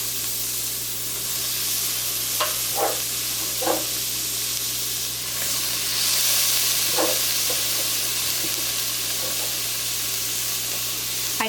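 Celery, onion and tomatoes sizzle in a curry pot for a Guyanese chicken curry with chicken wings, a continuous loud hiss of frying broken by a few scraping stirs and clinks, with a low steady hum underneath and no talk.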